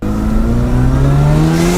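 A built car's engine revs loudly up close, its pitch climbing steadily through one sustained pull with no talk over it.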